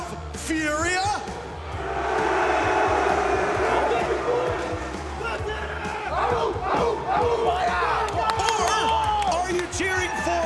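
A packed esports arena crowd at the Manchester Major quarterfinals roars and cheers for FURIA and Team Liquid, loud, continuous yelling and whooping from many voices that swells and surges throughout.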